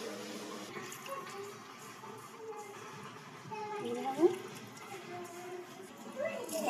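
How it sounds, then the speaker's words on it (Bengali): Water is trickled little by little into flour dough mixed with ghee and semolina for puri, giving soft, intermittent splashes and dribbles under a person talking. "এবার অল্প অল্প জল দিয়ে আটাটা মেখে নেব।"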